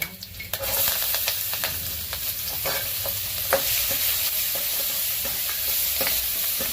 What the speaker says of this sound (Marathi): चांगलं परतून घ्यायचं लालसर होतं